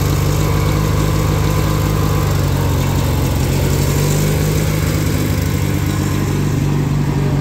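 Ride-on lawn mower towing a trailer, its small engine droning loudly and steadily close by without a break, with no talk over it.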